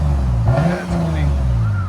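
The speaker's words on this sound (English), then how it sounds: "That's how a Lexus sounds." A Lexus RC 350 with an aftermarket exhaust, a loud, close, deep engine rumble that swells in a brief rev and then settles back to a steady idle.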